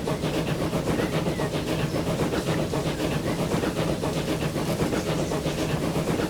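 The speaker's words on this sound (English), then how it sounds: "Oh no, that's a train, all right." A train passes in the Transport Fever 2 video game, a steady rumbling clatter with hissing steam that stays even and fairly loud across the whole stretch, with no talk.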